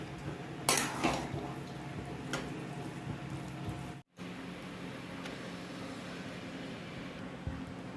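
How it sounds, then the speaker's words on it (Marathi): A spoon scrapes and clinks against a kadhai while a thick mango and jaggery mixture is stirred, with a loud burst of metallic scraping early on, then steady, softer stirring noise. "आपण या अशा पद्धतीने त्याला हलवत राहणार आहोत जेणेकरून कढईला खाली चिकटणार नाही"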